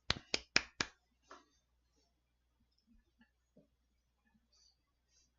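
A few sharp hand claps land in quick succession, four crisp nearby smacks then a fainter fifth, followed by near silence with only faint scattered small noises.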